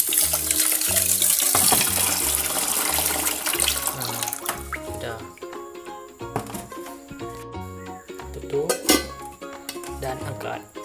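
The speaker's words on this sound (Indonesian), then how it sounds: "Tuang lagi air secukupnya." Water pours from a tap over rice being washed for cooking, a loud steady rush that tapers off, with music playing alongside.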